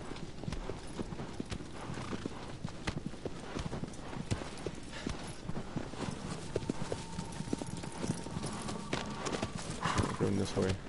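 A horse gallops in Shadow of the Colossus, with rapid, steady hoofbeats that are loud and close throughout and a brief whinny near the end, while a player talks over the action.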